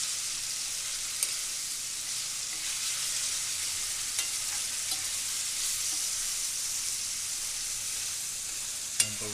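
Beef frying in a pan for a Cantonese dish, a steady bright sizzle with scattered small pops and a louder spatter near the end, no voices.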